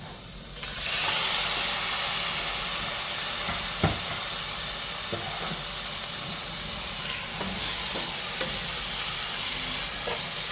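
Tomato is stirred into hot oil with ginger, garlic, coriander, mint and green chillies, making a loud, continuous sizzle and hiss with occasional scraping taps from stirring.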